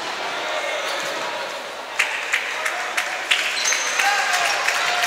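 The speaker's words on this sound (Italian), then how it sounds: "gli applausi per il numero 17 e anche per il numero 16 che entra in campo" Applause ripples through a basketball crowd at a Meta Formia vs Virtus Fondi game as players are substituted: a steady wash of clapping with a few sharper bursts, under a commentator's voice.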